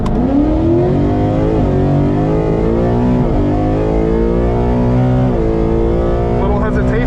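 Drag race car named Apollo held on a two-step launch limiter and then sent down the strip, a loud, close engine roar whose pitch climbs through several gear changes, continuous and dominant throughout.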